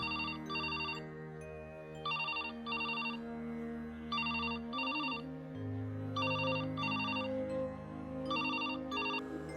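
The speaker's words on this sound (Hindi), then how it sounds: "राधा के स्कूल से इतने फोन?" A telephone rings in short doubled electronic bursts, repeating in a steady pattern for several seconds, clear and fairly loud over a faint low background hum.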